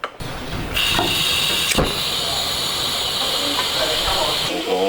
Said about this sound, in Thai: น้ำเดือดนะครับ